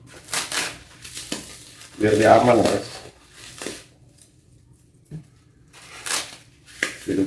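Used paper is crumpled by hand as packing padding for a parcel holding an African fat-tailed gecko. Crisp crinkling bursts and rustles come close up, broken by pauses, with a person talking around and between them.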